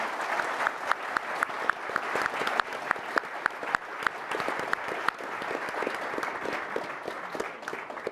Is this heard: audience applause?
yes